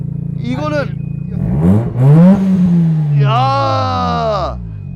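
A manual JDM sports car's engine revs up with sharp throttle blips, the RPM climbing and falling close by while people talk over it.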